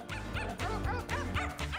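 Several dogs bark and yip loudly and continuously at close range in the English Garden park in Munich, with whimpering mixed in and no talk.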